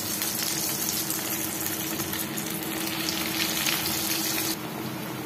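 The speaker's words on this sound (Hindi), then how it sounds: "इन सबको मीडियम टू हाई फ्लेम में ही फ्राई करना है" Sweet corn cutlets deep frying in hot oil over a medium-to-high gas flame, giving a loud, steady, close bubbling sizzle that fades slightly near the end.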